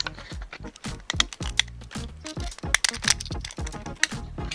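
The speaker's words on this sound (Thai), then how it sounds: "เดี๋ยวพี่อ้ำจะใช้คัตเตอร์เล็มขอบอีกรอบนึงนะคะ" A craft cutter trims the edge of a plastic bottle being made into a plant pot, producing a dense series of sharp, close crackling clicks and scrapes in quick irregular rhythm.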